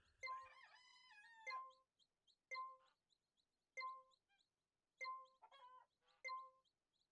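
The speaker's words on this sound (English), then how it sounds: "Okay, and then I'll check on my chickens." Chickens in the farming game Echoes of the Plum Grove cluck and squawk, with a long drawn-out call first and then a series of short, separate clucks, clear and alone with no talking.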